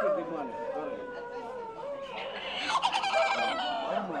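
Native country chickens and a rooster at a rural market cluck and call, with a rooster's crow rising toward the end, all heard under steady close-up bargaining chatter.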